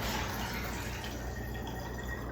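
Water being poured into a container as the base for a homemade floor cleaner, a steady continuous splashing fill that stays fairly constant and close throughout, with no talk.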